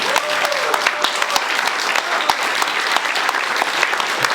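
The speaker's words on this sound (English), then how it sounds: "So let's give them a round of applause" A crowd gives sustained applause at a county supervisor primary debate, with sharp, distinct claps over a steady clapping bed and no talking.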